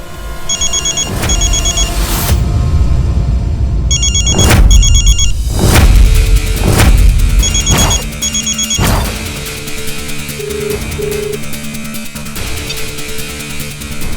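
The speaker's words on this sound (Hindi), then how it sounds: "तुम्हारा फोन बज रहा है?" A telephone rings in repeated bursts of electronic trilling, loud and close, with sharp percussive hits and background noise running between the rings in a Hindi film scene.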